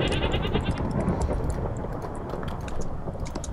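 Sheep or goats in the Minecraft video game bleat steadily over a dense, loud, continuous background, with overlapping calls throughout.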